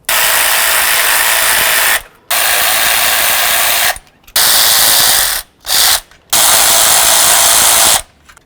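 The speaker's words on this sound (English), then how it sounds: "To do that, I'm going to remove the 8mm bolts." A power tool loosens the 8mm fuel rail bolts on a Ford Crown Victoria intake manifold, making loud close buzzing bursts of about two seconds each, separated by short pauses, with one brief blip between them.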